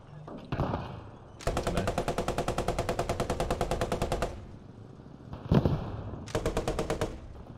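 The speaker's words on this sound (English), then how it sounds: "That 30 cal sounds awesome." Long bursts of rapid automatic .30 cal machine gun fire, a single heavy shot between them, then another short burst, from the WW2 shooter game Post Scriptum, with no talking.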